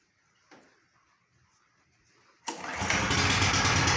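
A Honda generator is pull-started: a quiet stretch with a faint knock, then the engine catches and runs loudly and steadily at close range.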